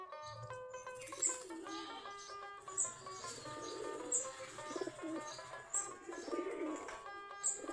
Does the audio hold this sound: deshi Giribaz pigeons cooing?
yes